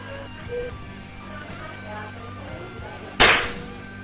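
A single sharp crack from a PCP air rifle, a Marauder or a Mauser with a magazine, fired at a target, loud and close with a short decaying tail, after a few quiet seconds with a faint voice in the background.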